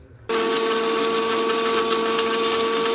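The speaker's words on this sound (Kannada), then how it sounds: "ಬಾದಾಮಿನೂ ಆ್ಯಡ್ ಮಾಡ್ತಾ ಇದ್ದೀನಿ ಇದನ್ನು ಗ್ರೈಂಡ್ ಮಾಡ್ಕೊಂಡು ಮತ್ತೆ ಸಿಗ್ತೀನಿ" A blender grinds peeled almonds for a dry fruit smoothie, a steady loud whirring motor whine that starts abruptly and holds constant to the end, with no talking.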